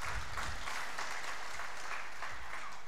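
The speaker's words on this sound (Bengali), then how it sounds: "আমি আমাদের সকলের পক্ষ থেকে যারা আয়োজক ছিলেন তাদের জন্য একটা জোরে করতালি দিতে চাই" Loud, sustained applause from a crowd at a staff family day event, steady and dense for the full stretch with no voices over it.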